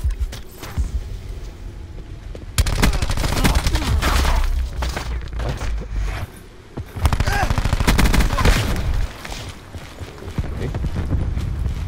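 Rapid automatic weapon fire in the shooter game Black Ops 4, loud continuous bursts with short pauses between strings of shots, game ambience underneath.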